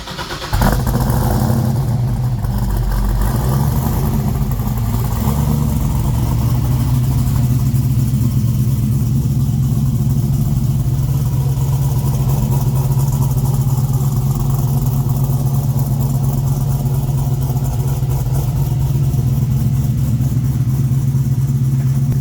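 A car engine catches and settles into a loud, steady idle with a deep rumbling drone that holds for the whole stretch.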